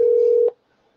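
A telephone keypad dialing tone sounds for a phone call: a single steady, loud tone lasting about half a second, then cutting off into near silence.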